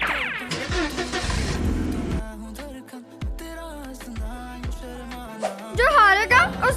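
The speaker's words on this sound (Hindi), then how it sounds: "अब जल्दी से एक एक कार लो और चलो रेसिंग करने।" Cartoon cars rev loudly at the start of a race, with a few sharp engine bursts and rising whines under lively talk and background music.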